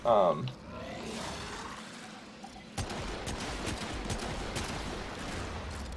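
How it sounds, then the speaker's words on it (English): Rapid, dense rifle fire from the Rubico in a Warframe sortie mission against Kela De Thaym, a sustained crackling barrage with sharp cracks, preceded by a brief loud burst and a quieter stretch. "So this time I'm going to shoot her with the Rubico to show the damage it does"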